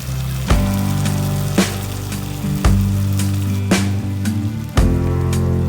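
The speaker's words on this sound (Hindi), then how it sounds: "कलेजी को हमने ऑयल में ऐड कर दिया है। अब हम इसको अच्छी तरह फ्राई कर लेंगे।" Beef liver (kaleji) frying in hot oil with onions that are turning golden, a steady sizzle broken by several sharp stirring or spatula knocks against the pan, close up and with no talk.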